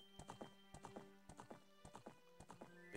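Epona, the horse in the Zelda game Ocarina of Time, galloping with a quiet, regular clip-clop of hoofbeats in quick repeating groups, with a brief louder sound at the very end.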